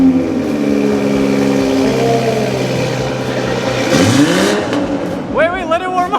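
A Toyota Supra engine revving up and settling close by, loud and throaty with rising and falling pitch, while people talk and react over it.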